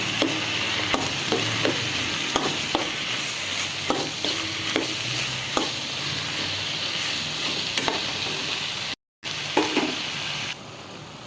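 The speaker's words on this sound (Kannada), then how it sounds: "ಈಗ ಮಶ್ರೂಮ್ ಹಾಕೋರಿ ಮಶ್ರೂಮ್ ಸರಿಯಾಗಿ ಫ್ರೈ ಮಾಡಿ" Mushrooms frying in a pan for mushroom masala, a loud continuous sizzle with repeated spatula scrapes and knocks, close by, briefly cutting out near the end, with no voices.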